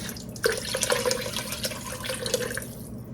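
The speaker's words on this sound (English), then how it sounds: "that's about 5-6 cups of water right there" Tap water runs steadily into a cooking pot while a stovetop dinner of beef shanks is prepared, a continuous close splashing and trickling with brief spattery bursts, no talking.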